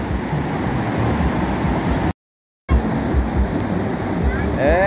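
The Cachoeira do Urubu waterfall in Esperantina, Piauí, thunders with a loud, continuous roar of heavy falling water, close by, broken by a brief dropout.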